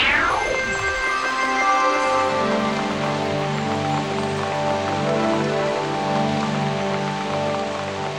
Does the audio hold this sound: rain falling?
yes